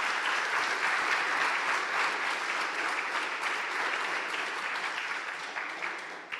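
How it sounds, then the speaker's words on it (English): A startup demo day crowd applauds loudly and continuously, dense overlapping clapping holding steady throughout with no talk over it. "Let's have a clap for Soul Arena in case Vedran."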